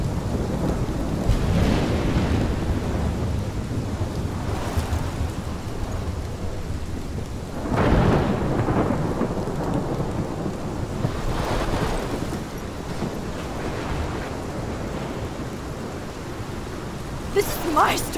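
A thunderstorm rages in the game Life is Strange, with steady heavy rain and rolling thunder swelling in loud bursts, including a strong crack near the middle, and no voices over it.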